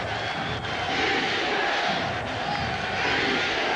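A football stadium crowd at a 1995 NFL game between the Dolphins and Chargers in San Diego roars steadily on third down, a dense sustained wash of cheering and yelling.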